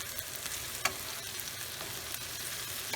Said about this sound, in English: now I'm adding my shrimp. This is about 1 pound of shrimp.